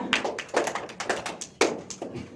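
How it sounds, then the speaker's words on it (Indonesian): Scattered hand claps from a small group in a classroom, applauding a student group after its correct answer; several irregular, fairly close claps for a couple of seconds, with no talk. "Tepuk tangan dulu untuk kelompok 2"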